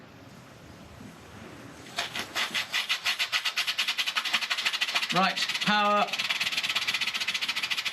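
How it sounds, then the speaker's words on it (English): A small Stirlingkit model steam beam engine starts up and settles into a fast, even run of close chuffing and clicking pulses. A few spoken words are heard near the end. "We want to do it unconnected first of all to get the engine running."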